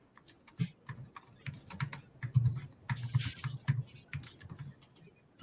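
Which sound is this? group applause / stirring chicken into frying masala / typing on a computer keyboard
typing on a computer keyboard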